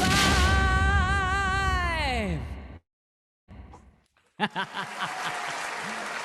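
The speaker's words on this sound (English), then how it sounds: "Hear all of you applauding." Pride celebration audience applauding after a live song performance, entering after the sung final note and a brief silence, a loud sustained clatter of clapping with cheers.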